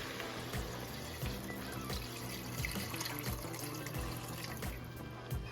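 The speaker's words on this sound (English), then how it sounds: "Next, we want to add just enough water to cover all of the food up." Water runs steadily from a tap into a pot of curry, filling it just enough to cover the food, with a continuous splashing pour and faint clinks under it.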